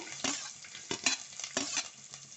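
Chopped onion tumbling into hot oil with frying garlic in a pan for a coastal sardine pulimunchi, giving a few scraping, sizzling bursts of stirring close by, with no talking.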